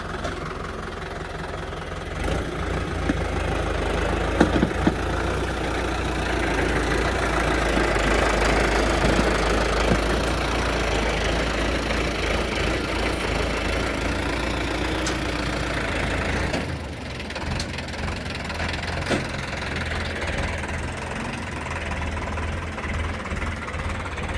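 A heavy tractor engine idles steadily for the whole stretch with a low rumbling knock, close by; the tone drops slightly partway through, no talking.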